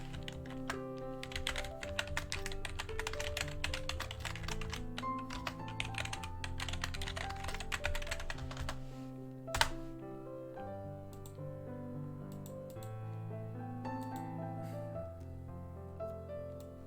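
Steady, rapid typing on a computer keyboard, with dense clicking keystrokes running throughout and one heavier thunk partway through, close and without talk.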